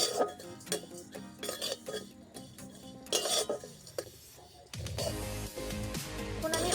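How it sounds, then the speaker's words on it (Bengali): Chaat masala spices are stirred in a pan over low heat, with a spatula scraping and clinking against the pan in uneven bursts, close and fairly quiet, and a louder rushing noise near the end. "হালকা আঁচে আমি নাড়াচাড়া করে নিচ্ছি"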